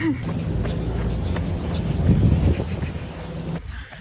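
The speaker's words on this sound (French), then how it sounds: "Il y a un méga vent." Strong wind buffets the microphone beside the sea during a morning run, a steady loud roar with gusts that swells midway and then drops sharply near the end.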